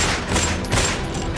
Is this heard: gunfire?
yes